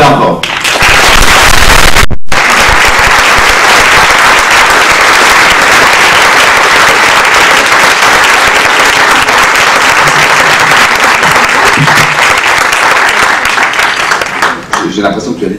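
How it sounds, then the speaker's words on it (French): Loud, sustained applause from an audience at an evening francophone conference fills about fourteen seconds, dense and steady after a brief pause near the start, then tapers off at the end. "Je vous demande d'applaudir Olivier Poivre d'Arvor."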